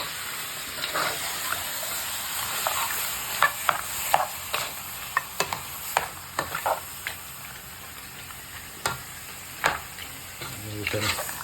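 Pepper steak with garlic and scotch bonnet pepper browns in a hot pan, giving a steady close sizzle broken by quick scraping clicks as the meat is stirred and moved around.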